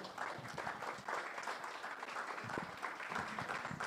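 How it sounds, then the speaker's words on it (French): An audience at an evening community event applauds a group of children, a steady, fairly distant wash of many hands clapping continuously throughout. "Je crois qu'on peut applaudir ces enfants."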